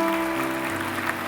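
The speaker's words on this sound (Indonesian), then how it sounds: "Beri tepuk tangan bagi Tuhan." A church congregation claps during a sermon, a brief burst of applause rising over a sustained musical tone.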